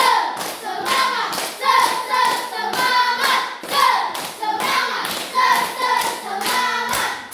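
A class of schoolchildren clapping together in a steady rhythmic clap chant, sharp repeated claps in groups with short pauses, loud and close, while voices chant along.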